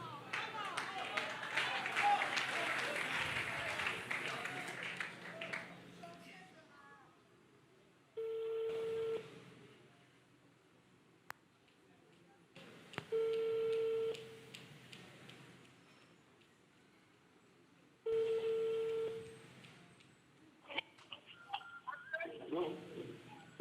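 A phone call with a long ringback tone repeating at regular intervals, loud and close, separated by quieter gaps. A crowd's murmur comes first, and a voice is heard at the end.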